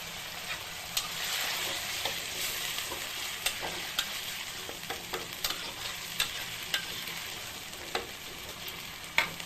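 Onion paste frying with whole cumin, coriander, dried chili, white sesame and green chili paste for a rui fish curry gives a soft, continuous sizzle. Sharp spatula scrapes and clicks against the pan recur every second or so.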